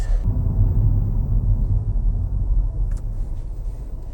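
A Volkswagen Jetta TDI diesel car driving, heard from inside as a steady, loud low rumble of engine and road noise that holds throughout with no talking.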